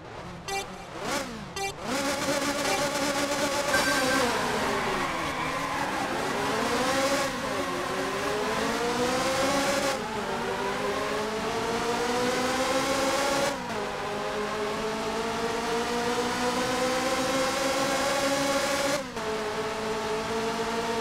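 Ferrari F355 race car engines from the video game F355 Challenge rev hard at a race start, rising in pitch through each gear, then dropping sharply at the shifts. The loud, continuous whine runs alone without any voices.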